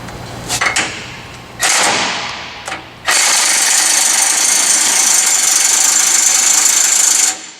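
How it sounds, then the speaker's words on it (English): An air impact wrench with a 1 5/8 inch socket loosens the chain tension idler on a machine: a few short rattling bursts, then a long, loud hammering run that stops abruptly. "batter your air impact in an 1 5/8" socket to relieve tension on the chain system"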